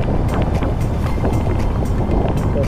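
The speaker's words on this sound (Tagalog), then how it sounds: "lakas po, tinan nyo po yung hangin" Strong wind roars and buffets the microphone in a constant heavy rush, with the rumble of a boat and water beneath it.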